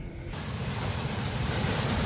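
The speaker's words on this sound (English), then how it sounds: "We're going to go check the waves." Ocean surf breaking at night along the New Jersey shore, a steady, loud wash of broadband roar that swells in after a brief quieter moment and continues without pause, with no voices.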